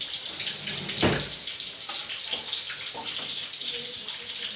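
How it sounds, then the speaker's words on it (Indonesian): Bananas fry in hot oil in a pan at a bazaar, a steady close hiss and crackle that continues throughout, with light clinks of a utensil and faint background voices. "Ada sementara goreng pisang."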